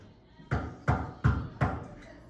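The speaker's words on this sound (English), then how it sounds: "I must knock loudly." Four loud, evenly spaced knocks land on a locked door, each a sharp thud with a short ringing decay, close by with no talking.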